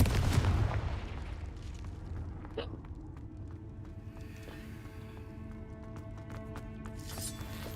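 A Confringo fire blast spell in Hogwarts Legacy, a loud booming burst at the start that trails off into a rumbling game soundscape with faint scattered effects.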